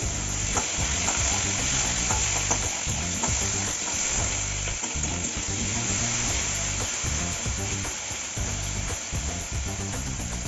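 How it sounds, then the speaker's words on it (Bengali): Potatoes sizzle and crackle loudly as they fry in a pan of spiced oil, a continuous dense frying noise with scraping stir sounds and no talk. "আলুগুলো ভালো করে ভেজে নেবে।"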